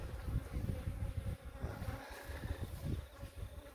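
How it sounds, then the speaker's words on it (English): Bees buzzing around a hive built inside an electricity meter box beside a rural train line at sunrise, a dense steady drone with pulsing low hum, close and continuous. "there's a beehive in this meter box"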